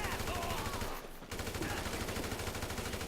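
AK rifle in GTA V firing in rapid automatic bursts, dense rattling shots with a brief pause partway through, game sound under distant background noise.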